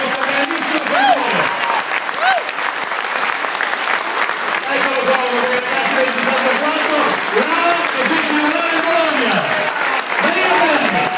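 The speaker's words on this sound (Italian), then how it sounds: "l'applauso deve salire per questo grandissimo favore." A theater audience applauds at a tribute evening for former Bologna FC winger Marino Perani, loud sustained clapping from a large crowd that fills the whole stretch, with a presenter speaking over it and occasional cheers rising through.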